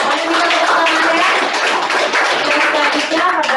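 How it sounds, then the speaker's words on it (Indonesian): Participants clap during an online anniversary webinar, a dense, busy patter of claps mixed over several microphones, continuous and fairly loud for the whole stretch, with some voices underneath. "Mari kita tepuk tangan ya"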